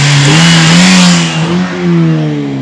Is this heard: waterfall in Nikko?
no